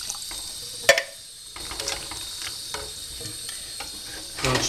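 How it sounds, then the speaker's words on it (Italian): Pork rinds stirred in a cooking pot with a splash of water, a spoon scraping and clinking against the pot amid soft sizzling and bubbling, close and moderately quiet. "Giriamo, facciamo andare bene le cotiche dentro."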